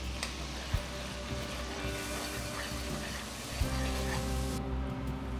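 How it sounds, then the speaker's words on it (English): A sauce with Tasmanian abalone juices simmers gently in a pan, producing a constant soft sizzle and bubbling hiss with a couple of small clicks. "and then just simmering down"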